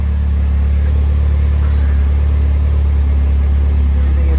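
A Mitsubishi Evo 9 engine idles steadily while warming up, a loud constant low hum with no revving, heard close and alone.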